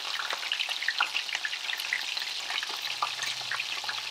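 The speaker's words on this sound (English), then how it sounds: "We will be taking them out and frying more." Coconut shrimp fry in a pan of hot oil on low heat, giving a steady, close crackling sizzle with dense pops and no talk over it.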